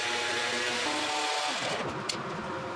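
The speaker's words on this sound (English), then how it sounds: "Next was planing a piece of poplar down to thickness." A power planer works a poplar board down to thickness with a steady, loud whirring hiss that shifts in tone as the cut ends.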